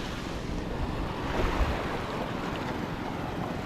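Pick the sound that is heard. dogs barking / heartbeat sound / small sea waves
small sea waves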